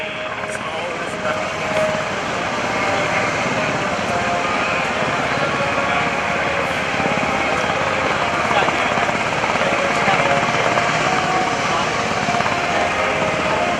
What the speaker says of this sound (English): These Black Hawk helicopters have a significant amount of lifting power.